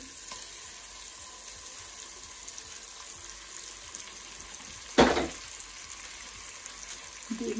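An egg frying in a pan gives a steady, faint, close hiss, broken once by a brief louder splash-like burst, then the quiet sizzle carries on.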